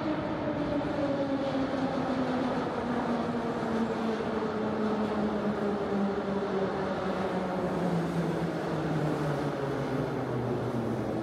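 Inside a Moscow metro train pulling into Okhotny Ryad station, the carriage rumbles steadily while the motor whine slides downward as the train slows.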